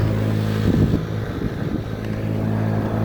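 A small red motorcycle engine idles steadily just after starting, a low, even rumble with a slight rise in revs partway through and light wind across the microphone.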